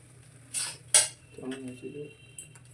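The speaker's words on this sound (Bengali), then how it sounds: "ভাতটা দিয়ে নেড়ে নিচ্ছি" A metal spoon stirs cumin rice in a cooking pan, giving a few sharp clinks and scrapes against the pan, close and fairly loud, with no talking.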